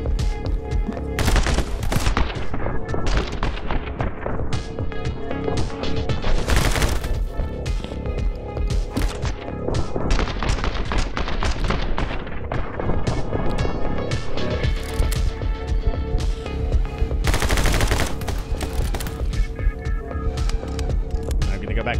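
Rapid bursts of video-game gunfire from My Friend Pedro crackle loudly and repeatedly, layered over the game's soundtrack and effects with dense, irregular shots throughout.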